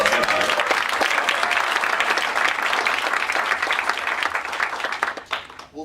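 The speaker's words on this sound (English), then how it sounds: "You can clap it up." Audience applause for the Reddit general manager at a tech tour event, a loud, dense burst of clapping that tapers off near the end.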